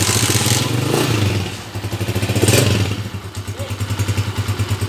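A motorcycle engine idles with a steady throbbing putter, rising briefly as the throttle is revved, loud and close.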